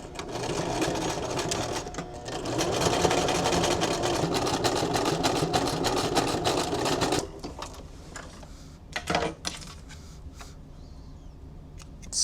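Sewing machine stitching slowly through layers of fabric including sequin fabric, a dense close mechanical whir for about seven seconds, then stopping to quieter handling clicks and short bursts.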